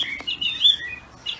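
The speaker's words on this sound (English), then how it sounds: "that's the song thrush keeping us company" A song thrush sings nearby, a run of bright, repeated whistled and chirping phrases, loud and clear with no talk over it.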